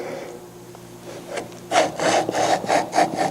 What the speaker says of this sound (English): we have to clean up the one edge here so we have a nice clean edge on that, and we do that on the shooting board